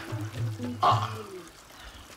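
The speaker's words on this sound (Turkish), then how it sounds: "Bunun sesi hep böyle mi? Şırıl şırıl. Evet, Niagara'nın altında ev yapmışız gibi." A decorative indoor illuminated waterfall trickles and pours steadily at a soft level in a home setting, with a brief voice over it.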